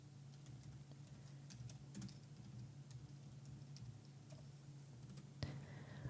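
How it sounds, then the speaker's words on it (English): Faint, irregular keystroke clicks from a computer keyboard tap out in short bursts over a low steady room hum, with no other sound nearby. "You can hear me typing."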